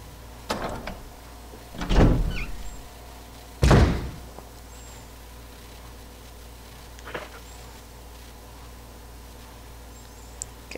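A door in the Resident Evil mansion on PS4 is unlocked with the mansion key and opened, heard as a few distinct heavy thumps and clunks with a short rattling tail, close and alone over a low ambient hum.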